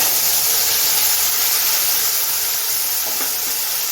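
Spice paste and a bay leaf hit hot oil after cumin seeds have been fried, giving a loud, continuous sizzling hiss that stays steady throughout, with no talking.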